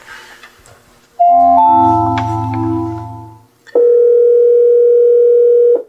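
A telephone dial tone sounds in a hospital teleconference room: a short tone and chord-like buzz, then after a brief gap a loud, steady dial tone that holds for about two seconds before cutting off.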